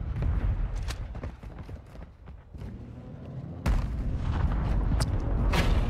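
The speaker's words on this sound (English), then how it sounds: "Second string of a mortar." Mortar strikes and gunfire in a Call of Duty Modern Warfare 2 match: a dense string of sharp blasts and cracks, heavy booms rolling through, with a louder burst of close impacts in the second half, no talking.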